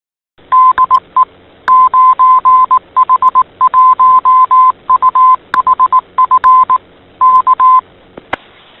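Ham radio repeater identification tones on the Gozo UHF repeater in Malta: a loud, steady beeping keyed in a rapid rhythm of short and long bursts for about eight seconds, heard alone with no talk.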